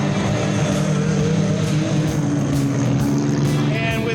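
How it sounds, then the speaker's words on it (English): A 24 Hours of Lemons race car at Thompson roars steadily past with a loud, rough, raspy engine note from a muffler with a giant hole, heard close and continuous throughout. "And with that giant hole in the muffler, she sure sounds mean."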